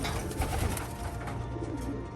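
Racing pigeon hens cooing in a loft, low soft murmuring coos layered together under a constant background hum, close and fairly quiet.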